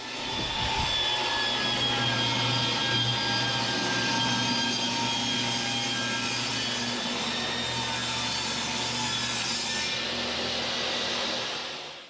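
Saw ripping a long strip from a plywood sheet, a loud continuous whining roar held steady for about eleven seconds before cutting off at the end.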